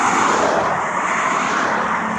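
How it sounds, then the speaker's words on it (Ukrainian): A tractor works a pepper plantation field in the USA, its engine a steady, broad droning roar at moderate distance that holds without break. "Тут трактор обрізкує"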